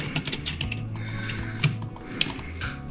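A screwdriver tightens a terminal screw on a GFCI outlet, producing soft, close mechanical clicks and gritty turning noises with a few sharper ticks and no speech.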